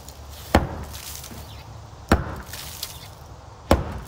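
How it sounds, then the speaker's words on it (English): Three sharp, heavy whacks against a brick wall from the inside to loosen bricks for a new farmhouse exterior door, evenly spaced about a second and a half apart over low background noise. "Jamie's on the inside giving it a good whack."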